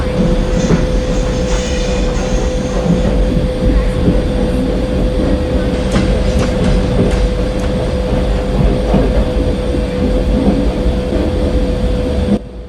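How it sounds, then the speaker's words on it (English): Indian passenger express train pulling into a station platform in a train simulator game, a loud steady rumble of wheels and carriages with a constant electric hum and occasional clatter, running throughout without pause. "655 Passenger Express is arriving at platform 5."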